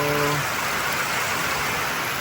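Heavy rain pours on a farm in a loud, steady wash of noise, with a brief tonal sound at the start and no speech.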